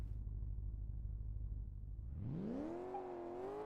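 Car engine at launch, a low idle rumble that suddenly climbs into a loud, aggressive high rev and holds, close by.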